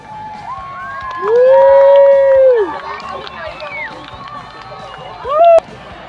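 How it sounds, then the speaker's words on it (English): A crowd at a fireworks show cheers and shouts, with several voices rising together into a loud close whoop and then a brief second shout over background chatter. "Everyone's cheering, yeah."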